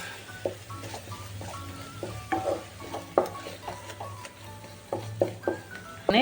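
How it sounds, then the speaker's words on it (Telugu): Masala spices mixed with powdered cashew fry in a pan while being stirred, giving steady sizzling broken by repeated scraping and clinking strokes of the spoon against the pan. "ఈ మసాలాలు అన్నీ మాడకుండా వేయించుకోవాలండి మంచిగా"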